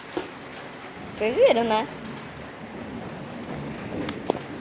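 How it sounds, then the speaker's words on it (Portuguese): Heavy rain pours steadily during an outdoor football game, a constant broadband hiss filling the whole clip, while a person speaks briefly over it. "O quanto que tá a chuva"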